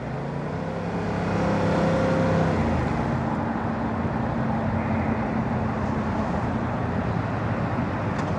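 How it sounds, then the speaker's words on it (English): Road traffic around a rider on a 2022 Yamaha YZF R7 motorcycle during a daily commute, a steady close engine and road rumble with a few tonal engine drones, swelling slightly after the first second, with no talk. "Traffic is pretty terrible."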